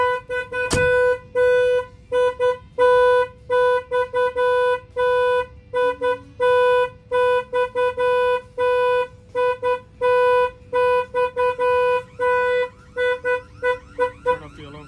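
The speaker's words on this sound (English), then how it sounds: "when the alarm goes off, I'm gonna go ahead and open the door. The alarm is gonna set off." Alarm on a 2023 Volvo VNL 860 truck sounding in rapid repeated loud honking pulses, a steady stuttering rhythm that continues throughout, close by and alone without talking.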